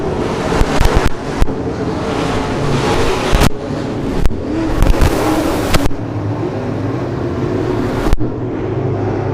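Stock cars race around a half-mile dirt speedway at a state fair in Sedalia, Missouri, loud engines roaring and surging as cars pass, with sharp bursts and wind buffeting the microphone.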